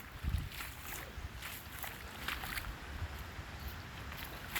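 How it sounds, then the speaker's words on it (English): A creek in flood rushes and gurgles, a continuous watery wash heard from nearby at low level, with some wind buffeting and no talk. "Can you hear it? Can you hear the creek?"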